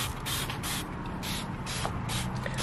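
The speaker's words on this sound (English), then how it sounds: "I'm gonna spray all here" Continuous hissing spray from a sprayer applied around the outside of a house, steady and close, with slight pulses in the jet and no talking.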